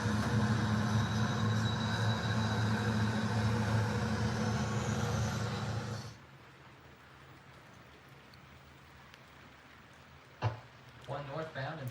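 A train rumbles loudly past at an S-curve crossing a highway, with a steady heavy roar that cuts off abruptly, leaving quiet ambience and a few brief knocks and rustles.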